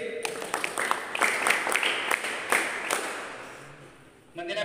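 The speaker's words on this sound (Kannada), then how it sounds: "ಅವರಿಗೆ ಒಂದು ಚಪ್ಪಾಳೆ ಕೊಡಿ" Audience at a school social science quiz applauding a correct answer, a brief burst of scattered hand claps from a small crowd, moderately loud and close, fading out just before the end.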